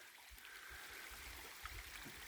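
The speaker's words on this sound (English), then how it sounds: "So this is the creek where I drink from" A forest creek flows quietly nearby, a soft continuous trickle and gurgle with occasional low burbles, faint and steady.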